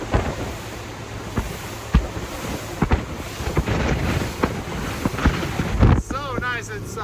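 2018 Bayliner VR5 boat with a MerCruiser 4.5 engine crossing its own wake, heard as a steady engine drone under rushing wind and water with irregular thumps from the hull hitting the waves.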